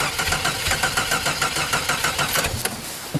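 A car engine idling with a fast idle held up, running rough and missing on one cylinder, giving a steady uneven chugging pulse that sounds loud and close throughout.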